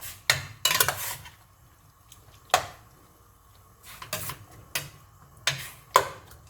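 A spoon stirs turkey and potato pepper soup in a pot, sharp clinks and scrapes against the metal coming in separate bursts with quiet gaps between, close and clear, no talking.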